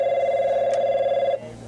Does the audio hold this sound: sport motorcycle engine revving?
no